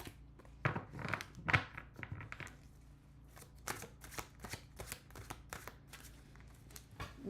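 Tarot cards being shuffled by hand, a run of riffling, flicking and tapping sounds in irregular bursts, close and fairly quiet over a faint background hum.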